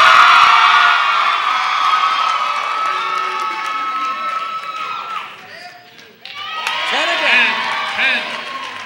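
A high school crowd at a faculty dance contest cheers, shouts and applauds loudly after a vote, the roar dipping briefly before rising again with whoops and excited young voices.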